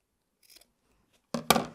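Scissors trimming a curve into fabric for a handmade clutch bag, a faint soft snip or two followed by two loud, close crisp cuts.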